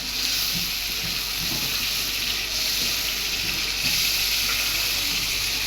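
Onion and spice masala for aloo dum sizzling in a pan while being fried down, a steady bright hiss and crackle held close and even throughout, with no talk.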